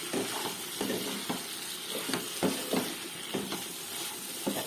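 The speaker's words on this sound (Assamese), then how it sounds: "এয়া মই উতলাই লোৱা গৰম পানী দি দিলোঁ" Freshly boiled hot water goes into chicken frying in a pan for a simple Assamese chicken curry, bringing a quiet hissing sizzle broken by several soft stirring knocks.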